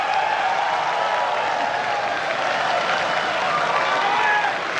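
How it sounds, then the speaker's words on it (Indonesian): An audience at a televised presidential debate breaks into loud, sustained applause, a thick wash of many hands clapping with a faint crowd murmur, continuous and close. "Silakan tepuk tangan."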